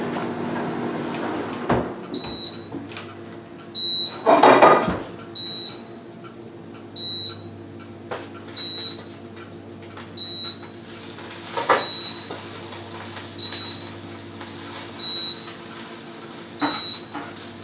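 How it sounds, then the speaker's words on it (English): A microwave oven heats chicken skins until crispy, giving a steady low hum with a high short beep repeating roughly every one and a half seconds, plus a few clunks and a louder rattle near the start. "stick it in the microwave for a couple of minutes, but first we're going to put the chicken skins in."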